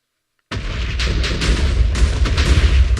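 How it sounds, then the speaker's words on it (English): A loud, continuous barrage of deep booming explosions in Minecraft rumbling one after another, dense and heavy with no pauses, clearly game-like and synthetic. "Look how well it handles these enormous explosions."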